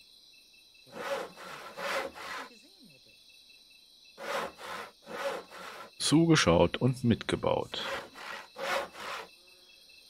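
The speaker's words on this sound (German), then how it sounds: "Eine Säge hat's hier." Wood is sawn in a medieval strategy video game, with repeated rhythmic rasping strokes in short bursts, clear and close, alongside a faint steady background hum and a brief spoken line partway through.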